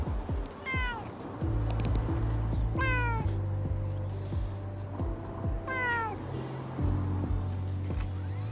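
Cats at Houtong Cat Village in Taiwan meow repeatedly, several clear rising-and-falling calls close by, over background voices and a low rumble.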